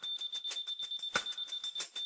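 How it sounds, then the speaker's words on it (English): A Leica Lino L2 laser level detector gives rapid, repeated high-pitched electronic beeps in a fast pulsing pattern, clear and close. "The blue LED display illuminates, and a beep sounds when you find the correct level."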